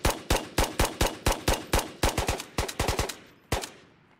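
Gunfire rings out in the VR shooter Ghosts of Tabor on the Island of Tabor map, a loud run of sharp, evenly spaced single shots that speeds into quicker clustered cracks, followed by one last isolated report.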